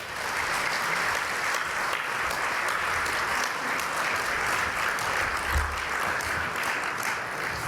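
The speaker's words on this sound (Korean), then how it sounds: "우리 나오실 때 우리 박수로 크게 환영하겠습니다." A church congregation gathered for a New Year joint prayer meeting claps to welcome a pastor, a dense, steady roar of many hands applauding at even volume throughout, with no voices breaking through.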